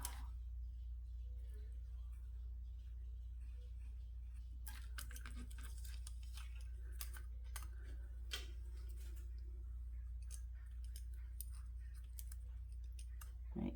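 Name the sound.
cutting a paper square for a craft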